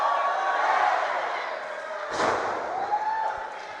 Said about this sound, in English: Listen to the crowd. They're on fire here.